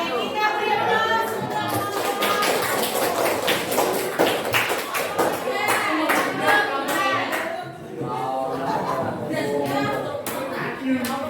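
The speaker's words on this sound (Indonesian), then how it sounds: "Kita beri aplaus." An audience at a school coaching session claps together in steady, dense applause that lasts throughout, with scattered chatter and voices mixed into the clapping.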